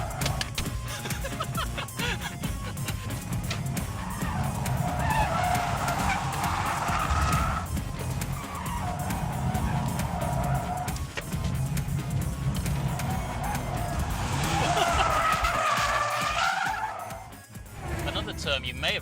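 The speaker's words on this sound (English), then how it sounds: "then we keep it floored and just hold that slide the whole way around the rest of the bend" Tires of a 2013 Nissan GT-R squeal and skid through a long, held power slide on a track, a sustained screech that swells and fades twice under someone talking over steady engine noise.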